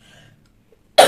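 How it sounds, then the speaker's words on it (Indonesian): A single short, harsh cough bursts out suddenly after near silence, close and loud. "Batuk."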